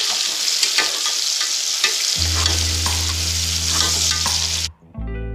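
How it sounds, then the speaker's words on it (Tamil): Onions and green chillies sizzle loudly in a frying pan while a spoon stirs and scrapes through them; a low hum enters midway and the frying cuts off near the end, with no talking. "வெங்காயம் பச்சை மிளகா மிளகா எல்லாத்தையும் சேர்த்து ஒரு கிண்டு கிண்டிக்குங்க"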